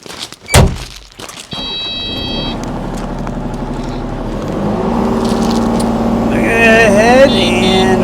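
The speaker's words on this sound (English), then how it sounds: "I'm going to go ahead and fire this machine back up" A 2021 Kubota U35-4 mini rubber-track excavator's engine cranks and fires after a sharp thunk, then settles into a steady, loud diesel run that swells slightly, with occasional high whines over it.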